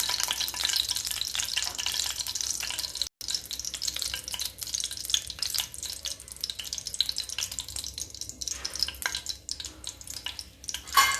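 Mustard seeds crackle and fry in hot oil with a loud, dense sizzle and rapid popping, continuous and close throughout.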